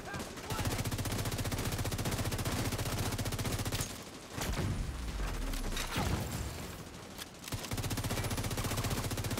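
Automatic gunfire in The Division 2, sustained rapid bursts with short pauses between volleys, loud and close, while players talk faintly in the background.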